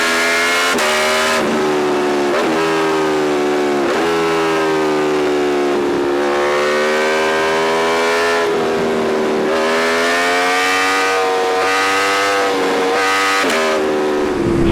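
An Aprilia Tuono V4 1100 Factory roadster motorcycle accelerating hard out of a corner, its V4 engine howling loud and close as it climbs through the revs, with several gear changes and no talking.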